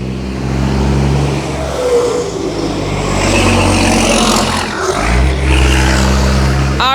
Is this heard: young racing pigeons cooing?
no